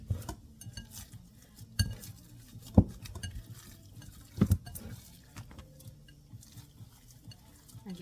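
Ground meat being hand-mixed with cooled onion in a bowl for meatballs, giving soft squelching and dull thuds with a few sharper knocks, close and fairly quiet with no speech.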